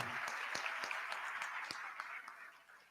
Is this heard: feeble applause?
yes